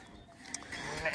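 Sheep bleat on a farm while pregnant ewes are sorted and fitted with numbered collars; a few nearby bleats rise toward the end over faint background noise.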